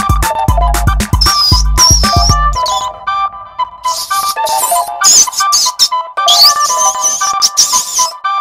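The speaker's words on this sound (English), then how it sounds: "A mouse makes a squeak sound." A mouse squeaks in rapid high-pitched chirps and trills, grouped into several quick bursts with short gaps between them, fairly loud and clear.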